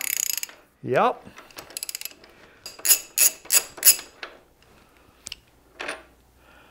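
Ratchet wrench working a 15 mm swing arm pivot bolt on a 2023 CFMOTO Ibex 800 motorcycle, giving a series of crisp close clicking bursts in steady rhythm after a short grunt-like effort, with a brief spoken word.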